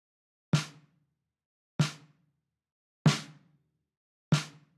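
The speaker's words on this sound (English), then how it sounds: "The snare is from the drum kit 4 on the floor and it's hitting the 2nd and 4th bar." An acoustic snare from GarageBand iOS's four-on-the-floor drum kit hits the backbeat on beats two and four of a bedroom pop beat. Four crisp, bright cracks ring out alone, evenly spaced about 1.3 seconds apart, each with a short, airy decay.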